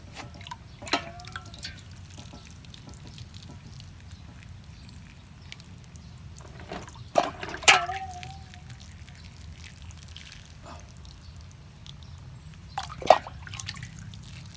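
Hot water drips through seedling trays of potting soil during sterilization, scattered, faint plinks and trickles spaced over a quiet background hum, with a few louder drips near the end.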